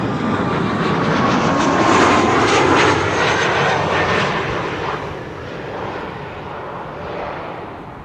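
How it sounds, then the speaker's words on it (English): KLM passenger jet landing at Amsterdam Schiphol Airport, its loud engine roar and rushing whine swelling near the middle, then easing off as the aircraft passes. "KLM flight 1818 arriving from Frankfurt has landed"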